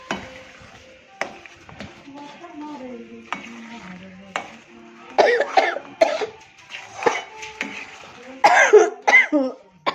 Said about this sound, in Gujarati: ઉધરસ થઈ ગઈ છે થોડી